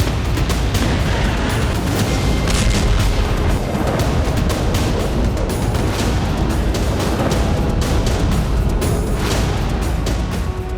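A missile strike sets off a loud, sustained rumble of booming blasts, dense and continuous throughout.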